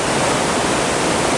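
Loud creek running high while gold prospecting, a constant broadband rush of flowing water that fills the whole short stretch without any change or voices.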